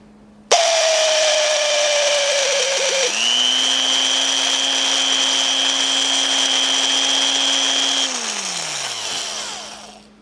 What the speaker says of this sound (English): This drill is about 60 years old and makes an awful noise when you turn it on